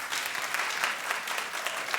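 Audience clapping in a dense, steady patter for two seconds, moderately loud and without talk over it.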